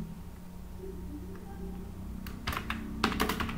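Keys clatter on a computer keyboard as text is typed into a word processor, a sparse start that turns into a quicker, louder burst of close keystrokes over a steady low hum.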